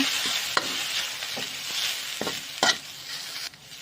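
Garlic sizzling in hot oil as chili and salt are stirred in, with a constant crackling fry punctuated by several sharp scraping stirs of a utensil against the pan.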